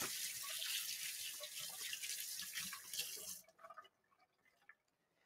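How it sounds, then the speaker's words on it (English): Tap water runs steadily into a sink while avocado is rinsed, a close, bright splashing stream that cuts off after about three and a half seconds, leaving a few faint drips and clinks. "Let me just do another quick rinse."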